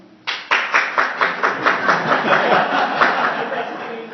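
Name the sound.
a person clapping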